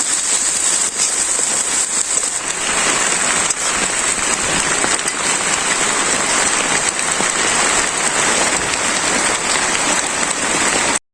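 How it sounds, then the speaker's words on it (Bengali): Heavy rain falls outside a village kitchen in Bangladesh, a loud, continuous, dense patter on surfaces that runs unbroken throughout. "বাইরে বৃষ্টি"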